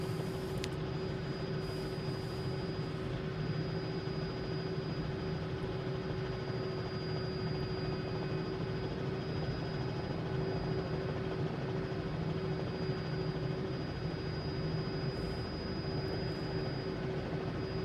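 A Robinson R66 helicopter flying in Microsoft Flight Simulator 2020, heard as a steady, unbroken turbine whine and rotor drone with an even tone throughout.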